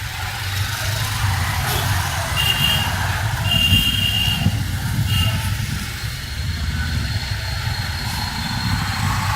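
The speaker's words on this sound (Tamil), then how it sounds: "டிராஃபிக் இருக்கு நல்லா." Busy evening city traffic in Thoothukudi, with buses pulling out: a continuous low rumble of engines and tyres, occasional faint horn toots and beeps rising above the roar, heard from inside a moving vehicle with no talking.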